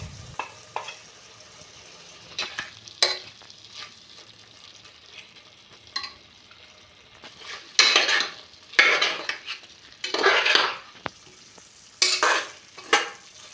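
Beef roast with crushed pepper and chili flakes is stirred in a pan, a low sizzle punctuated by bursts of loud scraping and clinking spatula strokes that come in uneven clusters.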